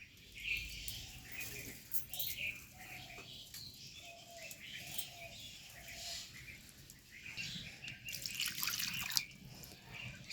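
Soaked sago being rinsed under a running tap, a soft steady flow of water with light splashes, fairly quiet and close, with faint bird chirps in the background.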